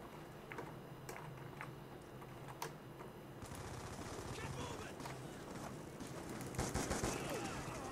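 Rapid automatic fire from a sentry gun in Black Ops 2 rattles continuously beneath the general noise of a match, with talk mixed in at a low level.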